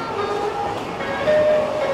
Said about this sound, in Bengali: এদিক দিয়ে ক্রস করছে বন্দে ভারত গেল।